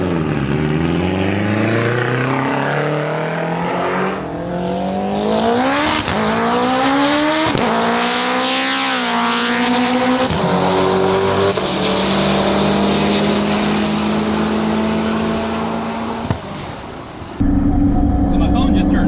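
An AWD sequential-turbo Honda K20 car and a C8 Corvette drag race, loud engines roaring and sweeping up through gears with whining revs and shifts, close and sustained before a sudden cut to a different, rougher sound at the end.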